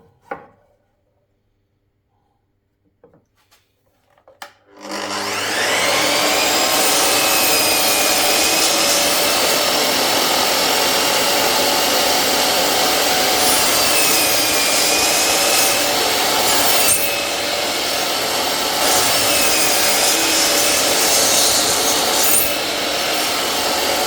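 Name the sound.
saw cutting a rebate in timber for a bee hive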